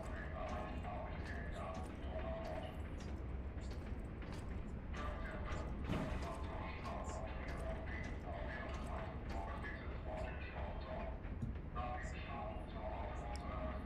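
Pilgrim's Cable Railway running in the video game Lies of P, a steady mechanical rumble with repeated clanking and ratcheting rattles throughout, heard at a constant level beneath someone talking.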